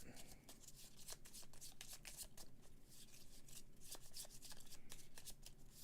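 Playing cards from the Ashes Reborn card game are shuffled repeatedly, a quick run of soft riffling flicks and rubs, faint and close, with no voices.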